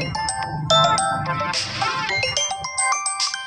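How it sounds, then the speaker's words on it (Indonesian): A phone ringtone plays a bright, repeating melodic pattern of chiming tones throughout, fairly loud and close, with no talking over it. "Ada telepon."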